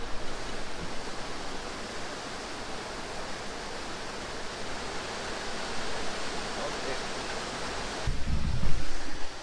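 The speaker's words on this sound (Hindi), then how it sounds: "ये छोटा सा वाटरफॉल है और ये पूरा ऊपर से आ रहा है" Small waterfall flowing down from above along a hiking trail, a steady soft rushing hiss heard at moderate distance, with a brief thump near the end.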